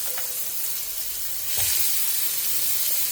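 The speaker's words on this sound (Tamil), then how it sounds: "இதை நல்லா வேகிற வரைக்கும் ரோஸ்ட் பண்ணி எடுத்துட்டேன்னாக்கா நமக்கு பேங்கன் ரோஸ்ட் வந்து ரெடி ஆகிடும்" Brinjal slices shallow frying on a dosa tawa give off a steady, fairly loud sizzle that swells a little halfway through and then holds, with no talking.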